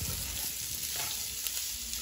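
Chicken frying with onions in a pan, a steady close sizzle with light stirring scrapes throughout and no voices.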